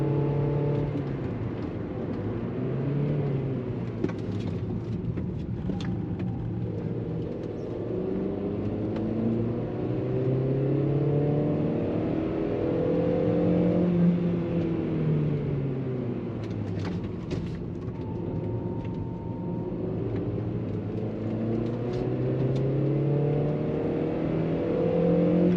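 An Audi A2 cruising at around 70 gives a steady, moderate engine drone with low road rumble and gently shifting tones, heard from inside the cabin with no talking.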